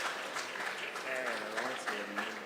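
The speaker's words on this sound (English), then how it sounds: "Can we give him a round of applause as he takes his seat?" A steady wash of audience applause at a junior science and maths quiz championship semi-final, moderately distant, with a voice speaking over the clapping part way through.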